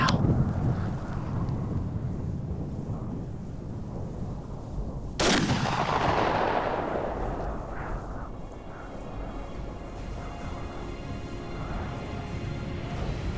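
A single rifle shot during a deer hunt on a Canadian farm cracks loudly midway, then rolls away in a long fading echo over steady wind noise.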